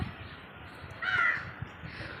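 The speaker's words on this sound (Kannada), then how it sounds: "ಎಷ್ಟು ಕಾಗೆಗಳು ಬಂದಿದ್ದಾವೆ ನೋಡಿ ನೋಡಿ ಬಂದು ಹೆಂಗೆ ಕೂಗ್ತಾ ಇದ್ದೇವೆ" One faint crow caw rises briefly over a low outdoor background near a spot where clothes are being washed.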